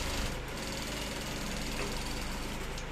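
A sewing machine topstitches a trouser front pocket with a steady, continuous mechanical whir, close and fairly even in level throughout.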